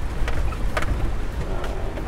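A Toyota Land Cruiser in four-wheel drive pushes through water, giving a steady rushing wash and splashing with engine rumble beneath, close and continuous.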